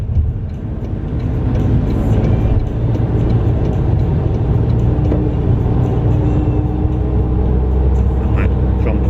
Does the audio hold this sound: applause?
no